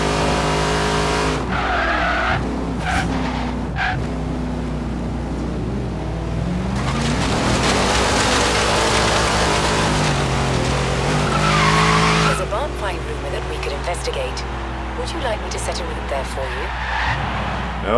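A 1967 Ford Falcon XR GT racing in Forza Horizon 3, its engine roaring loudly and tires squealing and skidding through long stretches of drifting, with someone talking over the car sounds.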